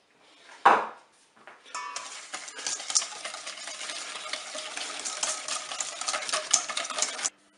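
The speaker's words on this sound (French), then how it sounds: "On va commencer par mettre le beurre et on va le mélanger avec le sucre" Butter and sugar being mixed together for a hazelnut cake batter, heard as a steady, continuous scraping and whirring stir that runs for several seconds after a single louder knock at the start.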